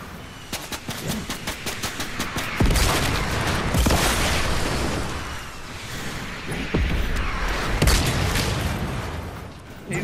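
Rockets and gunfire erupt in a ranked squad battle royale match, with rapid gun bursts and several heavy booming rocket impacts, loud and close, coming in waves.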